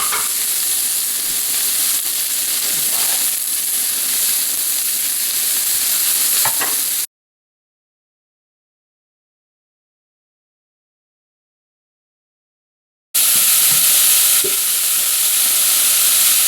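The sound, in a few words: beef searing in a hot pot for barley soup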